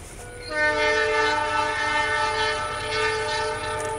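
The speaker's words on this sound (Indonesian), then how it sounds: "kereta api Jayakarta yang datang dari arah Surabaya dan Nganjuk ini" Jayakarta passenger train passing near a level crossing, its loud sustained multi-tone horn blaring steadily for several seconds close by over the rumble of the rail cars.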